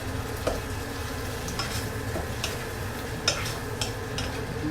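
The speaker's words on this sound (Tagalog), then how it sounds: "Ayan, syempre ilalagay ko yung ating sardinas. Ayan, nagigisa lang natin ito guys." Sardines sautéing in a pan for ginisang patola, a steady low sizzle with soft scattered clinks and stirring scrapes, close and continuous with no voices.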